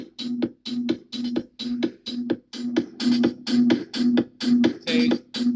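Programmed drum pattern with a kick drum added, a steady repeating groove of punchy kicks and crisp hits with a tonal thump on each beat, loud and close with no talking over it.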